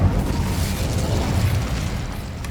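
Spell blasts from Hogwarts Legacy on PC, a dense continuous barrage of booming explosions and bursts with heavy low rumble, loud and sustained throughout with no talking.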